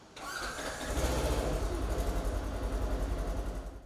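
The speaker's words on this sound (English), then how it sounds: "Finally, start the engine to verify proper operation." A 2024 Polaris XPEDITION XP off-road vehicle engine cranks and starts after spark plug service, then settles into a steady, rhythmic idle close by.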